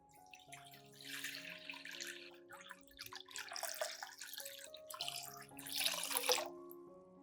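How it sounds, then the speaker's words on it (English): Clean water poured into a glass container to prepare an orchid soak, three bursts of splashing flow with gentle watery trickle between them, close and moderately loud, over a faint steady tonal hum. "Then add about 2 liters of clean water."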